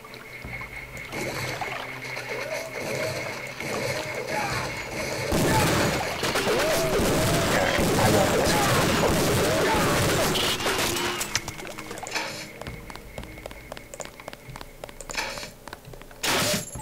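Dense burst of rapid gunfire in the Deus Ex video game, loud and sustained in the middle with heavy crashing impacts, preceded and followed by quieter game ambience.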